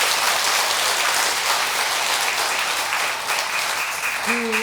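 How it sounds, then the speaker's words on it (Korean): A large audience at a Buddhist dharma assembly at a temple applauds in a dense, sustained clatter of many hands, steady and loud throughout, with a brief voice at the end. "박수 한번 쳐보라"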